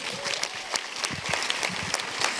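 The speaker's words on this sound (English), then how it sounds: "Give that a round of applause" Applause fills an arts awards ceremony for high school students, many hands clapping in a steady, moderately loud patter with a few louder individual claps standing out.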